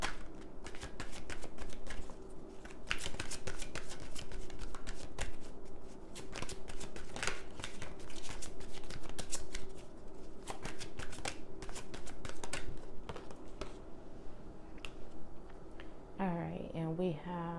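Tarot cards shuffled by hand during a reading, a steady, close, continuous riffling and slapping that runs for about sixteen seconds before a brief voice is heard at the end.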